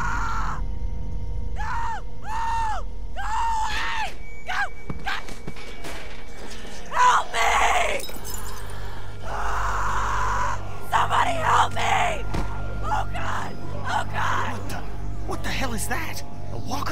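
A girl screaming for help in the video game The Walking Dead, with repeated loud pitched cries and yells mixed with thuds and a low rumbling background, other voices talking around them.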